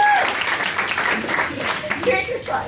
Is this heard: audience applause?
yes